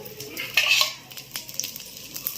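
Karam rotti flatbread cooks in oil on a pan over a low flame, with light metallic clinks and scrapes of a spatula and a faint oily sizzle underneath, close and fairly quiet.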